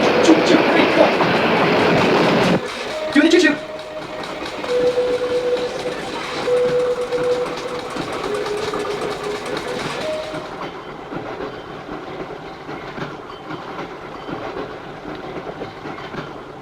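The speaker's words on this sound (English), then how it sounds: "There's the train, let's do the choo-choo, here we go." A train rolls along the tracks with a steady rumbling clatter and brief high tones, after a short burst of noise at the start.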